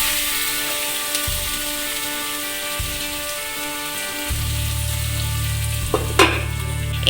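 Pieces of meat sizzle in a pan with turmeric as they are stirred, a steady close frying hiss punctuated by scraping and clinks, with a louder low rumble joining partway through.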